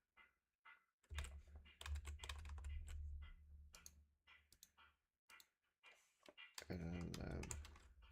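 Typing a folder name on a computer keyboard, rapid clicking keystrokes in bursts, close and moderately loud, with someone talking over parts of it.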